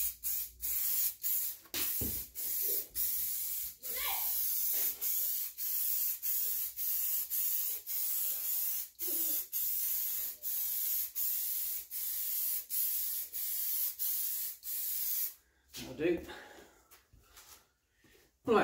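Spray gun laying a light dust coat of lacquer onto a handmade car body panel for a 1972 Newport, in a long run of short hissing bursts with brief gaps, followed by a few quieter shuffles and clicks.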